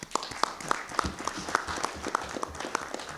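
Audience applause at a joint school board and county supervisors meeting, a moderate, fairly sparse round of clapping in a meeting room with a few sharper individual claps standing out, and no talk over it.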